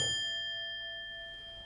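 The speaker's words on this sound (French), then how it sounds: "une cloche retentit, le timbre saisissant" A bell in the lock mechanism of a Masonic chest of drawers is struck once, then rings on with a clear metallic tone that slowly decays, close by and alone.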